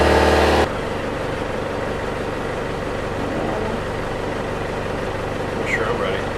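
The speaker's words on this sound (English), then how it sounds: "Engine's on." A boat's engine runs steadily at low idle, a continuous low rumble that holds at an even level throughout after a brief louder burst at the start.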